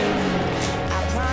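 Chevrolet Corvette engine revving loud and close, a sustained roar that drops into a deeper, steady rumble partway through, with faint voices in the background.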